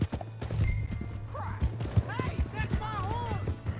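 Horse hooves clip-clopping in Red Dead Redemption 2, rhythmic thuds close by with chirping birdsong above and people talking over the hoofbeats.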